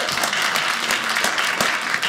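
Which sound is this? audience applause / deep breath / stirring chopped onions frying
audience applause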